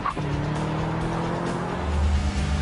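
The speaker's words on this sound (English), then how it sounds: "The Camaro is also remarkably easy to launch hard and turns in a blistering quarter-mile run of 13 seconds flat" A Camaro muscle car launches hard on a quarter-mile run, a loud, steady engine roar with tire noise that holds close and strong for a few seconds.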